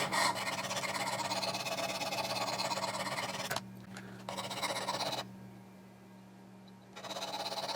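Knife blade strokes against a Work Sharp powered knife sharpener, a continuous gritty buzzing grind over a low motor hum, cutting off briefly between passes.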